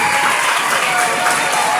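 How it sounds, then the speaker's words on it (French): Dense applause from a crowd, loud and continuous, with a hint of cheering mixed in. "Je vous demande d'applaudir Michel Nikelov."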